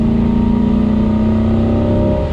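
A Corvette C8 accelerating under throttle on the Spring Mountain race track, a loud sustained engine drone rising steadily in pitch, heard close and continuous.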